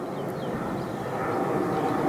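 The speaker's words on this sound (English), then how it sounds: "Another aeroplane going over." An aeroplane passes over open farmland edged with ash trees, a steady broad rumble that holds level and swells slightly toward the end.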